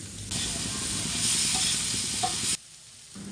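Green chillies and chopped onion drop into a hot pan and fry with a loud, steady sizzling hiss that cuts off suddenly after a few seconds.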